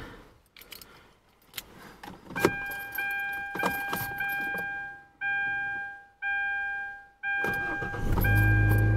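Car engine on a hybrid supercapacitor battery at about 23 degrees: keys jingle, then a chime repeats in a steady pattern, and the starter cranks briefly before the engine catches and settles into a low, steady idle.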